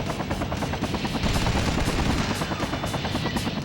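In the video game Delta Force: Black Hawk Down, a helicopter's minigun fires in a continuous, rapid, loud burst over the deep thrum of the rotor.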